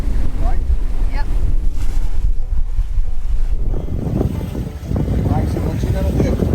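Strong gusty wind buffets the microphone aboard a sailboat, a heavy low rumble with rushing water and waves underneath, steady and close throughout.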